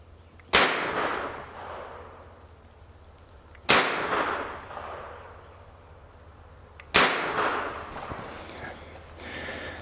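Three single shots from a Thompson 1927 A1 submachine gun at an outdoor range, each a sharp loud crack with a long fading echo, spaced about three seconds apart.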